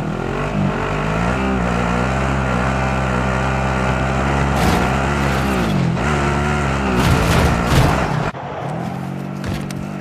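A car in the Call of Duty video game drives with a steady, loud engine roar that shifts pitch as it goes, then drops abruptly near the end; no talk is heard over it.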